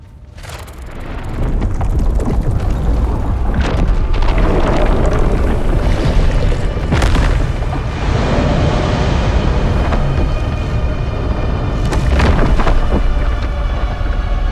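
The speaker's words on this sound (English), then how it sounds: "The sandworm is coming." A sandworm approaches in Dune: Awakening, a loud, continuous rumbling roar that swells in after a quiet start and is punctuated by several sharp booming bursts.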